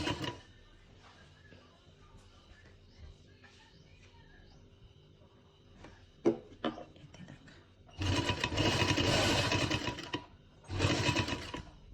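A sewing machine stitches fabric for a sleeve design in two close, loud runs of rapid whirring, separated by a short pause, after quieter handling sounds and faint talk.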